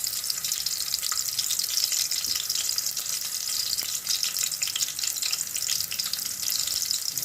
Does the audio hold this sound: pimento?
yes